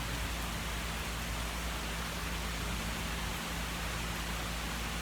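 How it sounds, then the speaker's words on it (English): Steady, dense rain falls outdoors in a continuous even hiss with no distinct drops standing out, heard alone without talk. "something about the rain is just very peaceful."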